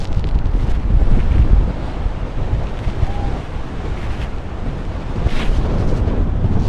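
Stormy sea at Aqaba, Jordan, with heavy waves surging and crashing close by while strong wind buffets the microphone in a loud, continuous roar.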